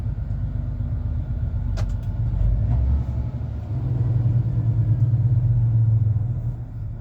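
Busy road traffic heard from the cab of an HGV on the A49 near Hereford, a low rumbling engine and road drone that swells and fades as vehicles pass nearby, with no talk.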